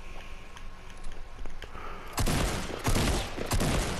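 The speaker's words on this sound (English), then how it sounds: "Somebody's getting shot at." Gunfire in Fortnite: faint scattered shots at first, then loud, dense bursts of rapid fire about halfway in that keep going with short pauses until the end, with no talking.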